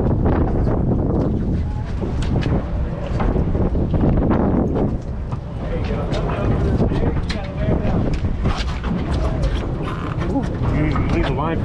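Strong wind and heavy ocean swells batter a fishing boat out at sea off Mexico, a loud, continuous roar with buffeting gusts and water rushing against the hull, while voices talk over it.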